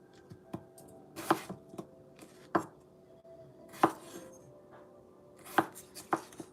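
Chicken being chopped into smaller pieces on a cutting board, with sharp knife strikes landing irregularly, some single and some in quick pairs, loud and close with quiet gaps between.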